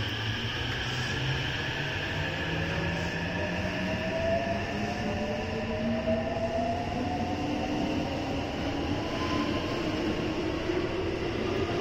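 A JR 225 and 223 series rapid train pulls out of Teradacho station on the Osaka Loop Line, with a steady loud rumble, rail noise and slowly rising motor whine throughout, close by and continuous.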